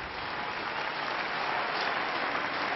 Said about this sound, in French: C'est Henri qui applaudit le public de Roland-Garros